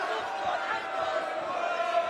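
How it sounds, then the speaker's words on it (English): A London crowd at a bare-knuckle boxing fight murmurs and shouts in a steady, dense wash of voices, continuous and moderately loud throughout. "Some disquiet in this London crowd, but these are not reckless fighters."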